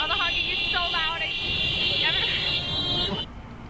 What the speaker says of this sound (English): all the honking is so loud